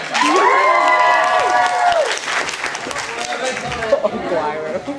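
Audience at an anime convention panel cheering and applauding, with loud shouts and whoops over clapping that thins out after a couple of seconds while voices carry on.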